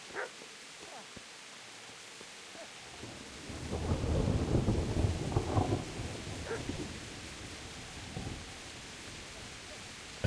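Heavy rain pours steadily in a horror video game while a deep, loud thunder rumble swells up mid-way and slowly fades, with fainter rumbles trailing after.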